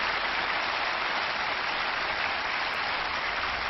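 A tennis crowd at an ATP Tour match in Bordeaux in 1988 breaks into dense, sustained applause after a rally. The clapping holds loud and even with no voices over it.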